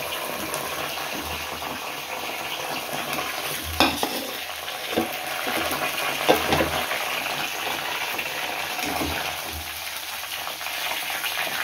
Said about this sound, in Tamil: லைட்டாக ஒரு ஃப்ரை பண்ணிவிட்டு இதை நம்ம உடனே எடுத்துடலாம்